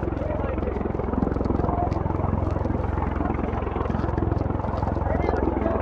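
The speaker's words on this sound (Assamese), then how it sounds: "এই হেলিকপ্টাৰখন লেণ্ড কৰিব চাগে ইয়াতে।" Helicopter in flight over Yumthang Valley, Sikkim, a loud steady rotor chop with a rapid even beat that holds throughout, close by and dominating the scene.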